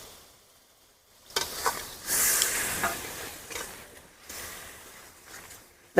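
Masala spices with ground coriander and sugar sizzle in a pan for an egg and soybean curry: a quiet start, then bursts of bright hissing and frying as the mixture is stirred, easing and flaring again.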